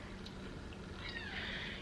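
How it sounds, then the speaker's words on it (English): A small kitten crying outdoors, its faint, thin high-pitched mews rising over steady background noise, with a clearer drawn-out cry near the end. "Here's a little kitten out here crying now."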